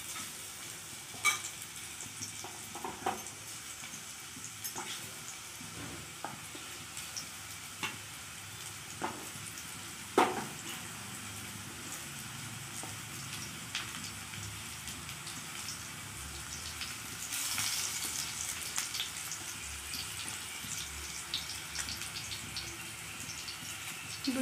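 Potatoes fry in hot oil in a pan for an Odia potato dish, making a continuous soft sizzle with scattered light pops and occasional stirring scrapes, close and quiet, with no talking.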